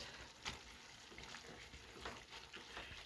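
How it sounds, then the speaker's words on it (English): Meat and onions cooking for chili, stirred in a pan, giving a soft steady sizzle with faint scraping strokes of the spoon, quiet and close with no talking. "Let me stir the meat now and the onions for the chili."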